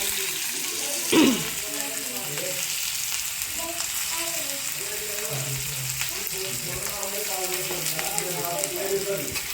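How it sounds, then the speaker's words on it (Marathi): Chopped onion and curry leaves fry in two spoons of hot oil in a pan for a village-style cluster bean curry, giving an even close sizzle with a brief louder spatter and a faint voice underneath. "तेल गरम झाले आणि त्यामध्ये आपण कांदा टाकू।"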